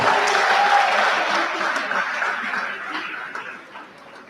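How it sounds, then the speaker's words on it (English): Applause at a university matriculation ceremony: a crowd claps steadily and fairly close, strong at first, then gradually thinning and fading over a few seconds. "Can we give another sounding applause for that?"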